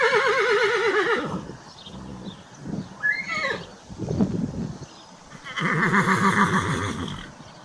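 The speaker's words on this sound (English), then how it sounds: "Horse." A horse neighs loudly and close, a wavering whinny at the start, followed by softer snorts and shuffling, then a second long, strong neigh, with no talking.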